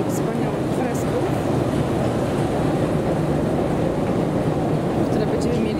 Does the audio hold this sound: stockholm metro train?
yes